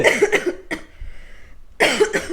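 A person coughs in a short burst between stretches of lively talk, loud and close to the microphone.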